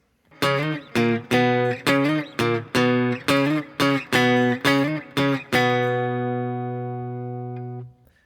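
A distorted electric guitar riff from a song, short chugging chords in a steady rhythm, ending on one long sustained chord that rings out and fades. No voices.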